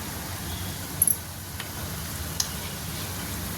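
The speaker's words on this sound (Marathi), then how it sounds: "हे पण असेच गोल्डन ब्राऊन होईपर्यंत फ्राय करून घ्यायचे" Rava gulab jamun fry in hot oil until golden brown, giving a soft, even hiss with a couple of faint ticks and clinks.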